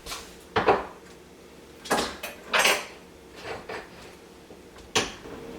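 Frying pan being set back on a stove before frying an egg, a few close metallic knocks and clunks spaced irregularly, with no talk.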